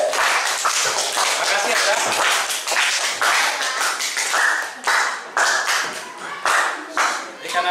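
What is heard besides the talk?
classroom applause for a student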